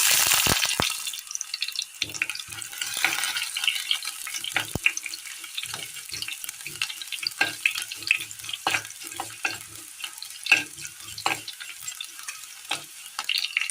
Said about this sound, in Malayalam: പൊട്ടിത്തുടങ്ങിയ കടുകിലേക്ക് ചെറിയുള്ളി അരിഞ്ഞത് ഇട്ട് കൊടുക്കുക